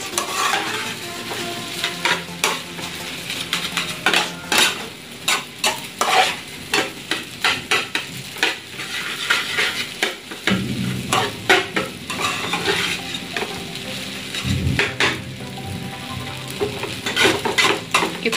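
Nasi goreng fried rice with soy sauce stirred vigorously in a hot pan: rhythmic spatula scrapes and metallic clanks over continuous sizzling, close and loud throughout.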